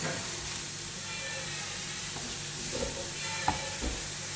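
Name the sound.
urad dal and mustard seeds sizzling in pan with vegetables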